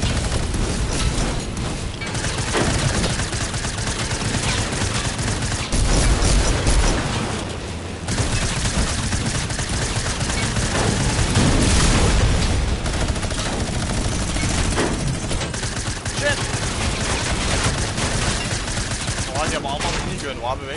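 Sustained rapid minigun fire in a video game, a dense continuous roar with brief dips near eight seconds, loud and close throughout the whole stretch.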